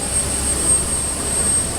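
A jet airliner just after landing, with a loud continuous engine roar and whine filling the cabin, broad and steady with no clear voices.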